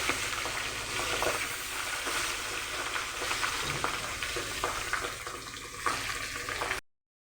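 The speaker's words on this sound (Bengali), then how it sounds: "তেলটা গরম হয়ে গেল, একে একে এখন মাছগুলো দিয়ে দেব" Pabda fish frying in hot oil in a pan, a steady close crackling sizzle with small pops throughout, softening slightly near the end before cutting off.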